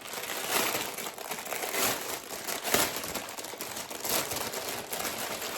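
Plastic packaging for a garden item crinkles and crumples close by during unboxing, a continuous rustling with sharper crackles, quiet and with no talk.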